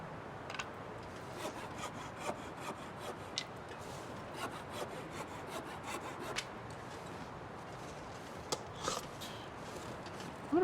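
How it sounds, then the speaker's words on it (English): Hacksaw sawing steadily in the survival game The Long Dark, a continuous rasping scrape with small irregular strokes, moderately loud and alone with no talk. "Use the hacksaw"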